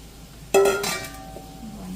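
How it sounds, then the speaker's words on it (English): Chopped onions drop into a pan of oil heated over medium heat for sautéing mirepoix, making a sudden clink and burst of sizzle that fades into a quieter sustained fry. "I have my oil heated up on a medium heat. I'm going to put in my onions"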